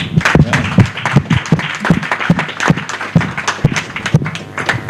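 A convention audience in a hall gives a round of applause for honoured gentlemen, with sharp individual claps at a fairly loose, uneven rhythm. The clapping is close and moderately loud and keeps going throughout.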